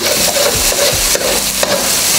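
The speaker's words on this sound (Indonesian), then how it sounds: "baru diorak-arik atau dibolak-balik seperti ini seperti membuat telur orak-arik" Eggs stirred and scrambled in a hot iron wok, a sizzling fry under repeated scraping strokes of a spatula, close and loud.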